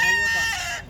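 A rooster at a chicken expo in Carbon Public Market, Cebu City, crows loudly and close by in a single drawn-out call lasting about a second.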